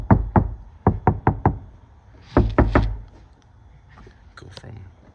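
Knuckles rap on the sound-deadened roof of a 2012 Toyota Tacoma with the headliner removed: three quick bursts of dull, solid knocks, two, then four, then three, close and short, with faint rustling afterward.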